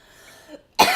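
One short, sharp cough bursts out at the very end after a bong hit, close and loud, following a quiet stretch with a faint sound.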